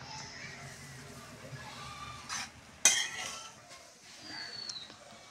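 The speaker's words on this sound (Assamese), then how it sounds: "চেনিখিনি দি অলপ ভাজিম" Coconut flakes fried with sugar in a pan in a village kitchen give quiet stirring sounds, with scattered clinks and scrapes of a spoon against the pan and one sharp metallic knock partway through.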